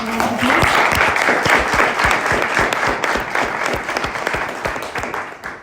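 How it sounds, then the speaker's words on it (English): Close, loud applause from an audience at a talk and discussion event, crisp individual claps merging into a thick burst that gradually thins and fades toward the end. "Should we give him a round of applause?"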